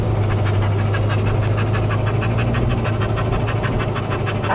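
A spoiled dog pants heavily and rapidly after coming out of air conditioning into summer heat, the quick breaths steady and close throughout, with no talking.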